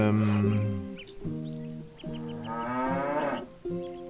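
Cattle in the castle-building game Stronghold Definitive Edition give several close, deep, drawn-out moos in succession, with faint chirps between them.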